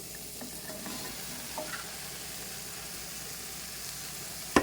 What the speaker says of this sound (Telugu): ఇప్పుడు మనము పీల్ తీసి బాగా చిన్న ముక్కలుగా కట్ చేసి పెట్టుకున్నాం బీరకాయ వేసేద్దాము